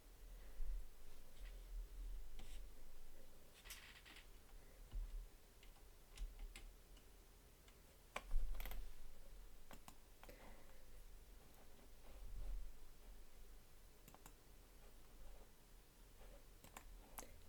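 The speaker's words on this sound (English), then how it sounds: "Hear my mouse clicking away there" A computer mouse clicks away quietly, scattered sharp ticks arriving irregularly over a faint background hiss with no talking.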